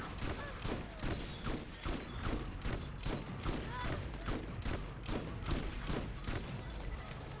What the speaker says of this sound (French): tu vas voir à quoi il sert le fusil à pompe